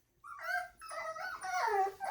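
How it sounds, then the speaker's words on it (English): Seven-week-old puppies whimpering, a few high, wavering whines and yips that rise and fall in pitch, close and fairly soft, with no talking. "So these are puppies that have already been chosen."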